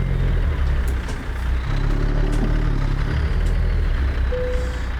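A simulated heavy truck engine in American Truck Simulator rumbles low and loud, the pitch shifting as the throttle is let off and braking takes over, steady and close with no talk.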